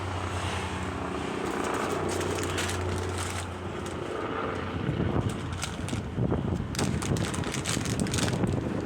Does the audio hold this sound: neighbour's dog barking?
no